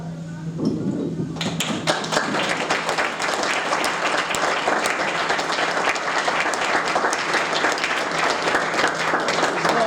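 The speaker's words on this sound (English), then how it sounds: "A round of applause for my father." An audience at a tribute evening breaks into applause for the speaker's late father, starting after a few thuds and swelling into steady, close clapping from many hands that continues to the end, with a voice briefly heard under it.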